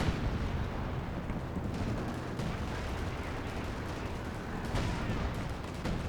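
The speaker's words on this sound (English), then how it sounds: "Artillery coming on in." Artillery fire in the Company of Heroes 2 video game during a 4v4 match on Lienne Forest, a dense, continuous roar of distant booms and gunfire blending into a loud wash of battle noise.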